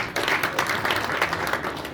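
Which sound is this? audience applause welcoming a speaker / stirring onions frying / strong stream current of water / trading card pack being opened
audience applause welcoming a speaker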